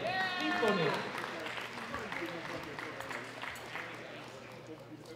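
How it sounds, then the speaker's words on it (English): Audience applause for a gold medal winner at a junior women's 43-52 kg world classic powerlifting championship, sustained clapping loudest at the start and easing off, with a voice over it early on. "A big round of applause for Heini Leiponen."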